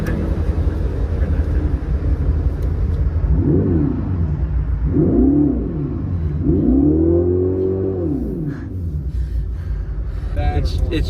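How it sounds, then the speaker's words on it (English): A Hemi Cuda's V8 engine idles with a deep rumble, then revs up and back down three times in quick succession, loud and close, before settling back to a heavy idle. "Give it a couple revs here."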